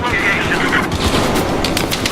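Machine gun fire from an enemy gunner in the Battlefield 4 video game, rapid bursts crackling under dense battlefield noise, with a radio-style voice briefly present.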